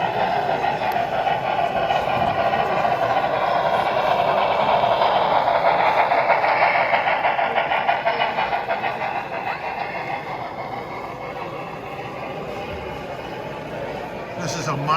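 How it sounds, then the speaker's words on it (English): A Norfolk and Western model train runs at a busy train show with a continuous whirring rumble that swells and then eases. Crowd chatter and nearby voices overlap it throughout. "This is a monster train."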